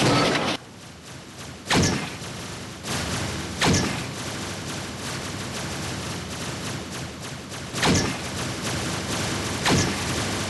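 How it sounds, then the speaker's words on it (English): Explosions and gunfire in a team-based combat video game with plasma grenades, as several loud broadband blasts land at irregular intervals over a continuous roar of battle noise. "Manuel hits 3, he'll switch to plasma grenades"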